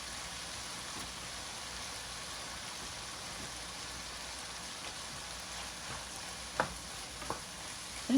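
Onions frying in a pan for Ethiopian vegan vegetable tibs give off a soft, continuous sizzle, fairly quiet and steady, with a few light clinks near the end.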